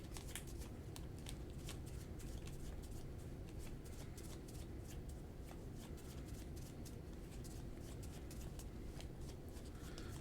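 A deck of Magic cards is shuffled by hand in quick, faint, repeated riffling and sliding bursts, soft and close over several seconds.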